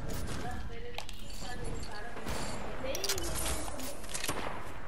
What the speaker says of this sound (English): People shooting us.